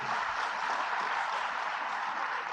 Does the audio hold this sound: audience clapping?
yes